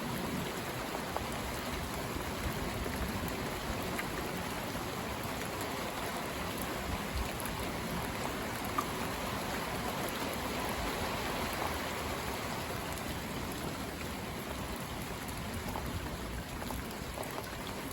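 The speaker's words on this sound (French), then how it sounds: "ça continue de pleuvoir en abondance." Steady, dense rain pours down continuously, a hissing wash of drops with no pauses.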